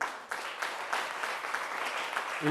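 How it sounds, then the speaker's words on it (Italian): An audience applauds for the production crew at a Miss Sorriso pageant event, a steady, moderately quiet wash of clapping with a few distinct claps and a brief voice near the end. "Facciamo un applauso alla regia"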